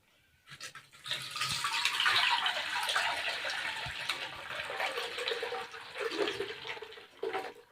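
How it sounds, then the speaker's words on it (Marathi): Millet soaking water pours through a sieve in a continuous splashing gush that starts after a second, runs steadily, then trickles and spatters near the end, close and moderately loud. "आता मी अगोदर गाळणी घेतलेली आहे आणि हा काळ अगोदर गाळून घेते मी"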